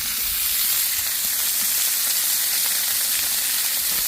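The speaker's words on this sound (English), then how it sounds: "steak is on the grill. We just plopped it down on there." Steak sizzles on a grill with a loud, steady, close hiss of frying that runs continuously throughout with no talk.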